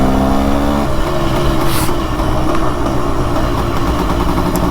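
A 400cc two-stroke motorcycle engine runs steadily and loudly close by, a continuous low throb with no talk over it.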